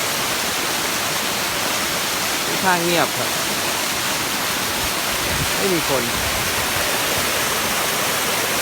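Forest waterfall rushing below a high lookout, a steady broad wash of falling water filling the scene while someone speaks briefly over it.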